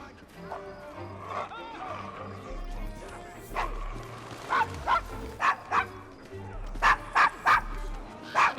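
A dog barks repeatedly in a rough street area of Victorian London in the Assassin's Creed Syndicate video game, loud sharp woofs coming in quick bursts over game ambience and voices talking.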